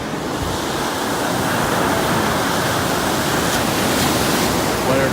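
Ocean waves on a beach at Carpinteria, a dense continuous roar of surf and rushing water with wind buffeting the microphone, loud and unbroken throughout.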